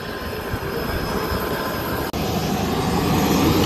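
Steady broadband drone inside the cabin of a Fokker 50 turboprop airliner in flight, a continuous loud roar with a faint tonal hum, briefly dipping for an instant midway.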